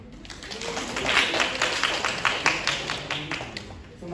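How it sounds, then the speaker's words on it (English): Audience at a university research seminar applauding a student presenter, a sustained crackle of many hands clapping at moderate loudness for several seconds. "Please clap for him."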